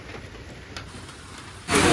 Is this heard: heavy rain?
yes